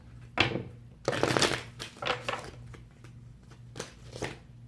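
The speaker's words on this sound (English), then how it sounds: "One more last shuffle." Tarot cards being shuffled by hand in a few quick riffling bursts, close and crisp, with a faint hum in the background.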